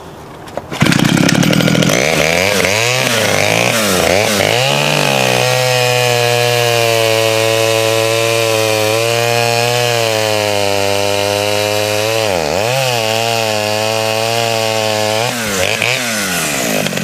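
An old, low-speed Pioneer chainsaw starts after a second and cuts through an 8-inch log from a distressed tree, its engine note bogging and revving as it works through the wood, loud and close throughout.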